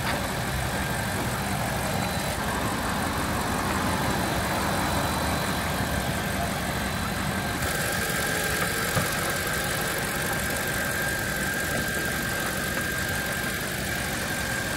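BMW X5 engine idling steadily after a radiator swap, a continuous even hum with a faint whine, close and unbroken for the whole stretch.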